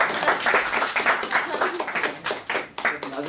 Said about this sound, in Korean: 이 타임에서 다 같이 격려의 박수